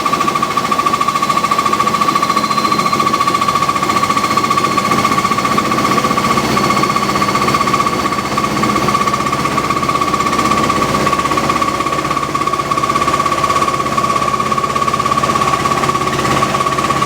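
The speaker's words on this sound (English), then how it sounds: "See, there goes the suspension rod playing up." A Fisher & Paykel washing machine spinning at about 1,000 RPM with a faulty suspension rod, giving a loud, steady, rapid knocking and rattling with a constant whine running through it, close and unbroken.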